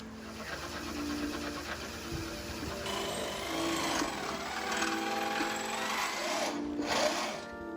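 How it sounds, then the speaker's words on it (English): Power drill boring through white knuckle sliders, a continuous whirring buzz with a gritty cutting edge that grows rougher partway through and carries on steadily for about eight seconds at close range. "So the next step, we're gonna drill these through"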